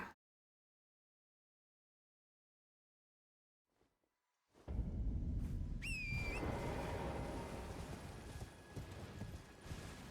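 Horse hooves clip-clopping in the video game Elden Ring: after several seconds of silence, a steady, close run of hoofbeats starts and continues, with a short whistle near the start of the galloping.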